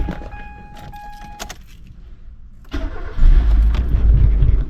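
Keys jangle up close with chimes and rattles, then an old, roughly 20-year-old Mercedes-Benz car engine cranks and starts first time, settling into a loud, steady low idle.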